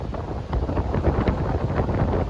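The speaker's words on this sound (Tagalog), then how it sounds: "Medyo maingay kasi windy, yung hangin, malakas" Strong wind buffets the microphone on a suspension bridge at Hell's Gate, Boston Bar, British Columbia, a steady loud rushing roar with gusty swells throughout, no speech.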